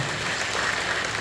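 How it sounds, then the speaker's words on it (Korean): A brief burst of congregation applause at a Korean Full Gospel church service in Incheon, dense and even throughout. "주님께 박수 올려드리겠습니다."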